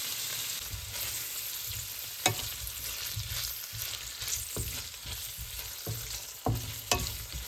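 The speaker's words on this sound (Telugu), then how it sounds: "సో ఇలాగా నెయ్యిలో వేసిన తర్వాత ఇట్లా బాగా మిక్స్ చేసుకొని కొంచెం రోస్ట్ అయ్యేంత వరకు ఉంచుకోవాలి" Cubes of paneer fry in hot ghee in a pan, a constant close sizzle broken by occasional clinks and scrapes as they are stirred.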